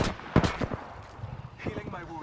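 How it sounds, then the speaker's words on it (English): Gunfire in the video game Apex Legends: a loud cluster of sharp shots near the start, then quieter scattered firing and game sounds, with a faint voice underneath. "Shot fired."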